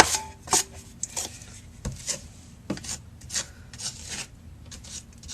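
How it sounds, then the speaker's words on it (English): A drywall knife scrapes setting mud across drywall in even passes, giving a series of close, dry rasping strokes with brief pauses between them. "I just take the knife and I just run it evenly"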